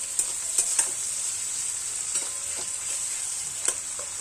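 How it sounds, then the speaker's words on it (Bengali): Onions fry in a pan with a steady bright sizzle while they brown, and a spoon stirs them with occasional soft clinks and scrapes. No one speaks during the cooking. "পেঁয়াজটা একটু ভালো ব্রাউন কালার হবে।"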